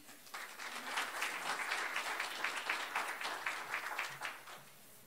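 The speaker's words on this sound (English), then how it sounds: "let's have a round of applause for Dr." Audience applause at a university weekly briefing as a speaker walks to the podium, a full room of hands clapping steadily for several seconds before tapering off, with no talking over it.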